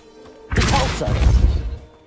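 The Depulso spell in the Hogwarts Legacy video game lands as a sudden whooshing smash with a low booming thud that decays over about a second and a half.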